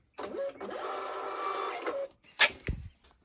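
A thermal label printer printing barcode shipping labels, a steady mechanical whir lasting about two seconds, followed by a couple of short clicks and a tear as the label comes free.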